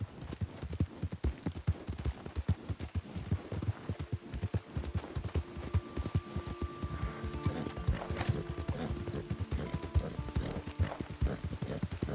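Horse in Red Dead Redemption 2 Online galloping in, rhythmic clip-clop hoofbeats with a whinny, over ambient game music.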